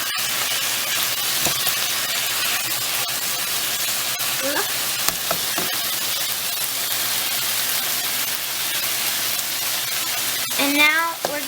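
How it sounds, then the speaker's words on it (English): Noodles for Peruvian tallarin saltado sizzle steadily in a hot pan while being stirred, with a constant hiss, occasional scrapes and a brief voice near the end. "Now, we add our noodles, which we now are going to stir up."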